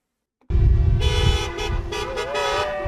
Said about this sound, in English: There are many here honking in support, others in frustration as hundreds of protesters take over much of the Trans-Canada